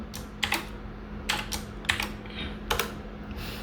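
Someone types code on a computer keyboard. Short clusters of crisp key clicks come in irregular bursts, close and clear, over a low steady hum.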